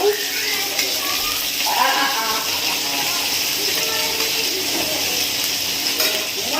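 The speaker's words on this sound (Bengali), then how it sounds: "পেঁয়াজ কুচি দিয়ে আমি ভালো করে নেড়ে চেড়ে নেব" Chopped onion sizzles and fries steadily in a pan while being stirred, a dense continuous crackle with occasional scraping, and a voice talks faintly over it throughout.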